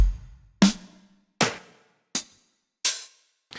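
Drum shots from a psytrance sample pack: a kick followed by snares and hi-hats, five crisp separate hits spaced evenly in silence, each decaying quickly.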